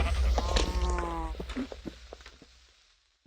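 A sheep bleats in the Minecraft video game, one clear wavering bleat near the start, followed by a few light footstep-like taps that fade to quiet.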